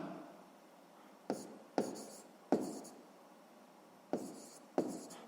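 Pen strokes on notebook paper during a sixth-grade maths exercise, five or six short scratchy bursts at uneven intervals, close and fairly quiet, with no voice.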